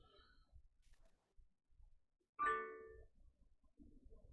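A phone notification chime from an Android phone sounds once, sharp and tonal, amid faint background noise and soft murmuring.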